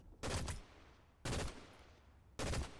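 Video game gunfire comes in three short, loud automatic bursts, evenly spaced about a second apart, each a dense rattling clatter with quiet gaps between and no speech.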